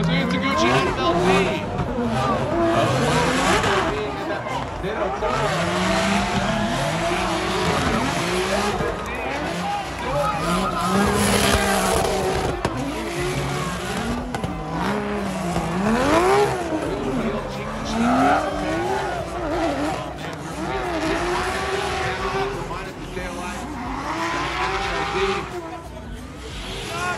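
Drift cars at a Formula Drift event in Orlando sliding through corners, loud continuous tire squeal and howling engines rising and falling over nearly half a minute, with commentators talking throughout.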